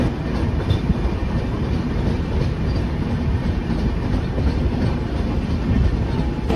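The 12814 Steel Express, a very long train from Tatanagar to Howrah, runs through a curve, heard from the rear coach as a loud continuous rumble of wheels on rails with faint rhythmic clatter.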